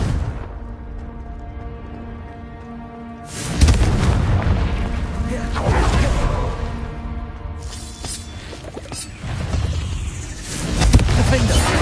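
Confringo spell explosions in the Hogwarts Legacy video game, deep rumbling booms that hit loud and roll on for several seconds, arriving in two or three heavy waves.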